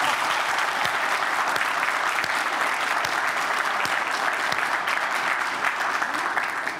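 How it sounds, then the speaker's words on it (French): Sustained audience applause at a French live show, dense and steady throughout with a few louder claps standing out near the front. "Est-ce qu'on peut applaudir ça?"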